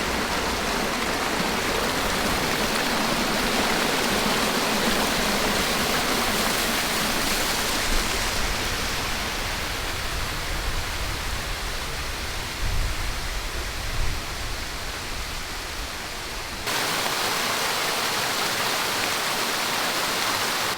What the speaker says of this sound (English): There's just so many different little waterfalls.